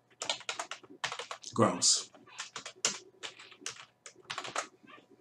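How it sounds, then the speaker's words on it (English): Keys clatter on a computer keyboard as numbers are entered into a vending business tracking spreadsheet, quick close bursts of typing with a brief spoken word in the middle. "all you got to do, guys, is just type this in"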